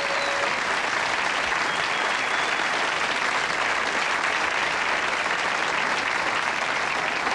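Sustained studio audience applause from the Club Buggery crowd in a television studio, dense steady clapping filling the whole stretch at constant loudness with no talk over it.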